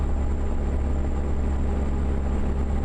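Steady low rumble of a truck engine in American Truck Simulator, a constant deep drone with an even hum and no pauses or talk.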